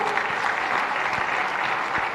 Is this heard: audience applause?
yes